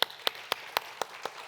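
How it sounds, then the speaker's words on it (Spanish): Seven sharp claps, evenly spaced about a quarter second apart, ring out faintly in a church worship service during a Mother's Day women's program, alone with no voices. "vamos a darle un fuerte aplauso"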